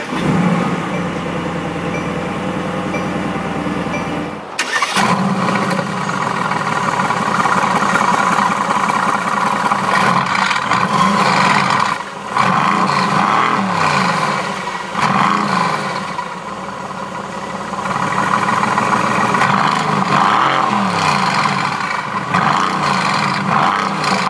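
A 2018 Mercedes-AMG GT C Roadster engine starts and idles steadily, then rises and falls through several revs in repeated surges, loud and close, with no voices.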